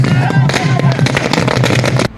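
Firecrackers set off by celebrating alliance supporters after an election win, a dense continuous crackle of rapid loud pops lasting about two seconds, with crowd noise mixed underneath.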